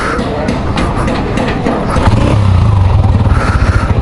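A motorcycle engine is kick-started after the ignition is switched on during rim repair work, catching at about two seconds into a loud, steady close-up idle with rhythmic low pulsing.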